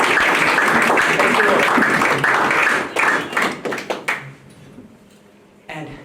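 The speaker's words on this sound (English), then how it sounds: "Let's give a hand of applause to the Lord for all he's doing." A church congregation claps for the Lord in loud, dense applause that holds for about three seconds, then breaks into scattered claps and fades as a voice speaks briefly over it.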